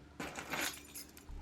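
A brief metallic jingle, like a bunch of keys shaken once, light and close, lasting about a second with no voices.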